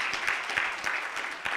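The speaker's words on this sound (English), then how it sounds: "Can we first and foremost give a round of applause for the PS" Short round of audience applause at the launch of a marine cargo insurance portal, moderate clapping from a seated crowd with a few distinct claps popping through.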